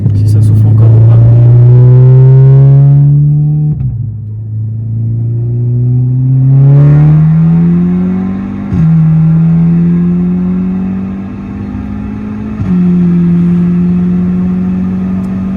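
Tuned Audi S3 8V stage 3 engine accelerating hard through several gears, loud rising revs broken by shift dips and turbo whoosh, heard close from inside the car.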